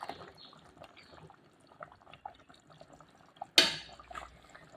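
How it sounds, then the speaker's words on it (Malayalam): A tablespoon of raw coconut oil is poured into a pot of fish curry, heard as one brief, close liquid splash after a stretch of faint kitchen rustling. "ഇതിലേക്ക് നമുക്കിനി കുറച്ച് പച്ച വെളിച്ചെണ്ണ ഒഴിച്ചു കൊടുക്കാം."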